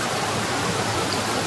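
Water rushing steadily at Humbare waterfall, a dense, close, continuous roar with no pauses and no voices.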